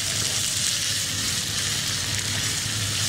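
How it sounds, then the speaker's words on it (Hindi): Minced meat (keema) fries in hot oil with a steady, close, continuous sizzle that stays even throughout, with no talking. "कीमा अच्छा सा जो है वो फ्राई हो जाए ऑयल के साथ"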